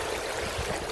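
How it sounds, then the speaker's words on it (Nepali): A flooded mountain stream rushes over stones in a dense, continuous roar, loud and close. "यहाँ ढुङ्गाहरू छ, खोलाहरू छ, बाढी एकदमै भयङ्कर बाढी छ"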